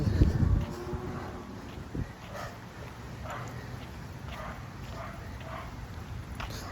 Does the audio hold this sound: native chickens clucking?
no